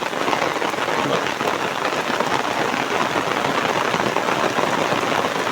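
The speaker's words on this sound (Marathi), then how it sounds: "आता जोरदार पाऊस आला" Heavy monsoon rain pours down on a paddy field at rice-transplanting time, a loud, dense, unbroken hiss of drops hitting the ground and water.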